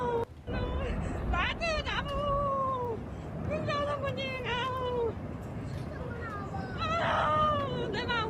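Near the Trishuli river during a flood in Nepal, people scream and wail in repeated rising-and-falling cries, several voices overlapping loudly with shouting.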